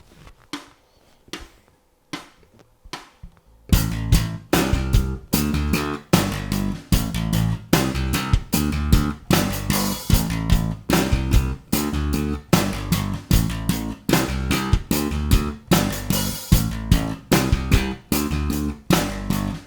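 Double thumb slap bass guitar: a few quiet plucks, then a loud, steady stream of punchy percussive notes over a drum track, close and rhythmic, no talking.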